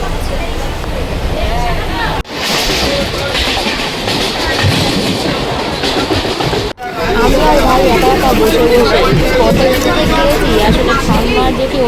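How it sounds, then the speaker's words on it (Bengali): A local train running, with a continuous loud rumble and rhythmic clickety-clack of the rail cars, as a babble of passengers' voices carries on throughout. "আমরা এখন লোকাল ট্রেনে উঠে পড়েছি ট্রেন চলতে শুরু করে দিয়েছে"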